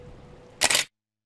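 A camera shutter fires once at close range, a sharp mechanical click with a brief burst of noise, after a quiet room hum and before silence, at a new resort hotel with a rooftop pool in Tachikawa.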